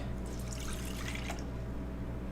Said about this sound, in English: So all we have to do is add our soy milk